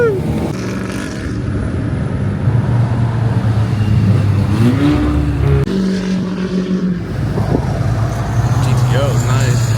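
Performance cars, including a Cadillac CTS-V, a Corvette C7 Z06 and a GTO, cruise past on an Ocean City street during cruise week, loud engines rumbling and revving up and down close by while people talk over them.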